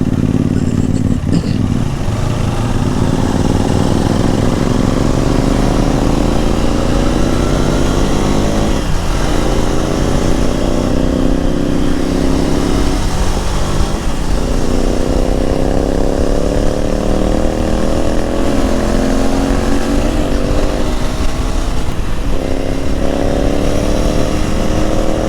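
A loud, modified motorcycle engine revs hard and close, its raspy tone rising and falling in repeated throttle pulls over a steady, rumbling idle, with no talking.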